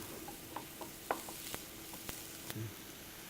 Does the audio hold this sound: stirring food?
yes